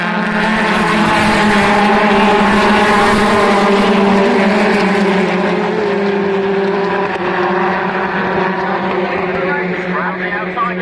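BTCC touring cars racing at Oulton Park after a restart, a loud sustained engine roar heard from the grandstands, fading slightly toward the end, with a commentator talking over it throughout.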